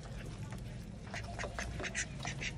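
Several ducks quack repeatedly up close while eating, over a low, busy background murmur, with the calls overlapping in quick bursts.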